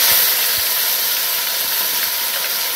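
Tomato paste hitting hot frying spices in a pan, a steady broad sizzle and hiss with a few soft pops, moderately loud and close, with no voices.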